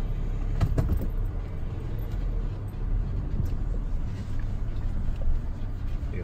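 A car without four-wheel drive, stuck at a camping spot, drones steadily nearby with its engine running and wheels spinning, and a faint jingle rides over the rough low rumble.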